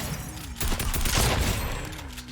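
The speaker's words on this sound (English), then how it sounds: "you can hit your headshots kind of flicking with the shotgun" Shotgun fire in a first-person shooter video game: a quick burst of several sharp, loud blasts crowded into about a second, with a steady game background hum before and after.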